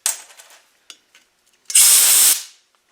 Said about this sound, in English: Compressed air onto the magnet.